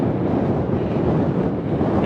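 Strong wind gusts roar steadily across a 9,399-foot mountain summit on the Pacific Crest Trail, a dense continuous buffeting on the microphone with no voices.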